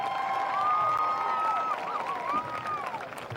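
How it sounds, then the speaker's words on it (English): Crowd at a high school senior night football game between Southern Nash and Rocky Mount applauds and cheers continuously, a broad steady wash of clapping with a sustained whistle-like tone gliding over it. "Let's please give all of them a warm round of applause."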